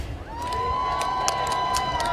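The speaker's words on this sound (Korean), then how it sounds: "다시 한번 따뜻한 박수와 함성 크게 부탁드리겠습니다" A crowd at a Korean election campaign rally cheers and claps, with a sustained tone running through it and scattered sharp bursts above the steady crowd noise.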